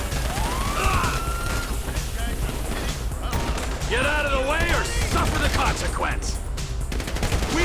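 Assault rifle gunfire during a police fight in the video game GTA 5, as dense, continuous bursts of shots over chaotic background noise, with voices talking underneath.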